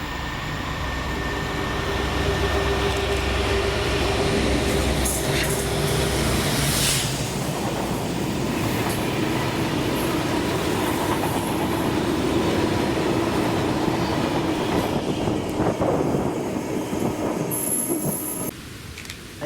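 A freight train of loaded BP aviation fuel tankers hauled by Class 56 locomotive 56087, running from Grangemouth to Prestwick on the Ayrshire coast, rumbles past steadily and loud with wheel squeals and clattering over the rails, and no voices.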